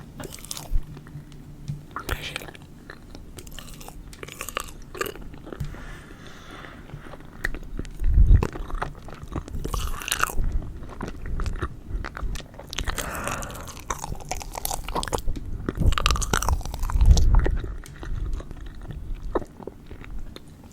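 Close, wet chewing and squishy mouth sounds of eating marshmallows repeat irregularly, with occasional louder crunchy bites and soft breaths.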